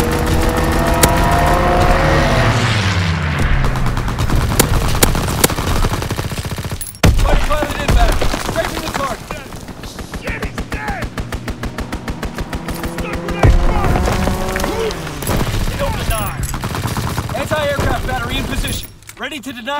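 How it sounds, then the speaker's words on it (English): Strafing machine gun fire from a fighter pilot in the Call of Duty WWII video game, dense rapid bursts of gunfire running through most of the stretch amid loud battle noise, with brief pauses between volleys. "Fighter pilot inbound. Strafing the target."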